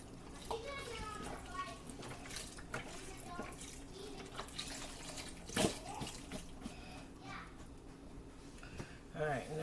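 Water poured into a crockpot while making sausage and potato soup, a steady splashing pour under ongoing nearby talk, with a short louder splash partway through.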